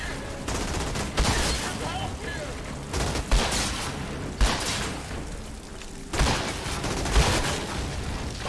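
Shotgun blasts in the video game Outriders, a series of heavy booming shots spaced a second or two apart over busy game noise, with a voice talking in between.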